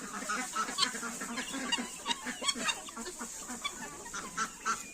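Several Marans hens cluck and murmur continuously nearby, their calls overlapping in a busy, uneven rhythm.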